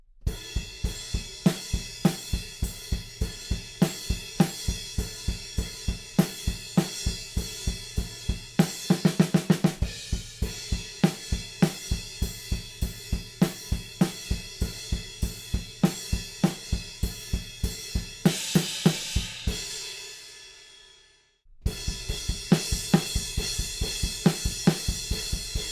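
Rock drum groove from a song with a busy, driving kick drum under steady cymbals and snare backbeats, punctuated by crashes and a fill. The kit is loud and close, with a short near-silent gap before the beat resumes.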